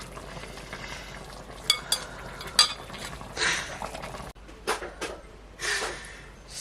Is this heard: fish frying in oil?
yes